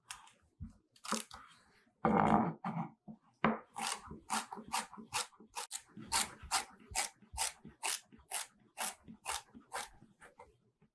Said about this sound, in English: And then we'll small dice some celery